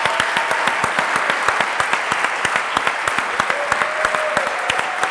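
Applause for the winners at the IdeaUp Challenge 2021 final gala: steady, dense clapping from a large audience with sharp individual claps standing out, no talk over it.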